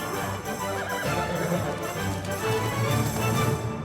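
A horse whinnies over busy, dense background noise in the video game Kingdom Come: Deliverance 2, with hoofbeats clopping along during a chase and no talking.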